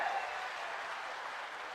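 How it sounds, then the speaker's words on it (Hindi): Crowd applause welcoming a politician at an outdoor rally, a faint, steady wash of clapping heard from a distance throughout. "जरा जोरदार तालियों से उनका स्वागत करें।"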